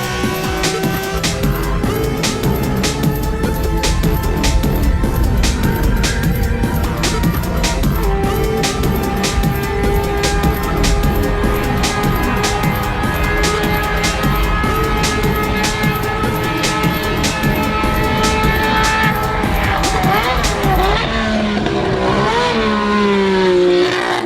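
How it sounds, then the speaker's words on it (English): Nissan Skyline Hakosuka GT-R race car lapping Fuji Speedway, its engine note rising and falling steadily through gear changes, loud and continuous for the whole stretch with no talk. "The Hakosuka GTR's final laps at Fuji Speedway."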